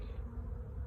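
Honey bees fly around a hive on a warm spring day, making a steady, close, low droning hum with no break.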